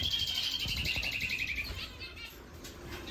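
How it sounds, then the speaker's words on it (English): A male canary in an aviary trills a rapid, high chirping run, then scattered tweets and rustling follow close by. "My male canary is going crazy."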